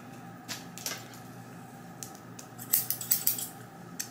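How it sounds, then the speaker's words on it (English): Scissors snip through wig hair at a close distance, scattered crisp cuts that grow into a quicker run of sharp snips near the end, with no voice. "I guess we've got some new scissors."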